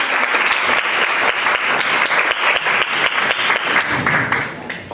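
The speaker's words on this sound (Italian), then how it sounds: "Direi possiamo concludere con un bello applauso." Enthusiastic audience clapping closes a talk on feeding children, a thick, continuous burst of many hands for about five seconds that eases slightly at the end.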